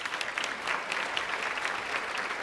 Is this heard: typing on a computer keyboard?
no